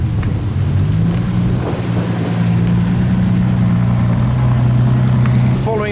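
A Ferrari LaFerrari supercar at a UK car meet gives a loud, steady low engine rumble with a droning tone that holds throughout and rises briefly near the end.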